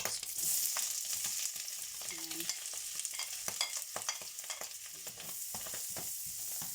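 Onion sizzles and fries in a pan as the base for fried rice, a steady close crackle broken by scraping stir strokes and small clatters of the utensil, with no voices.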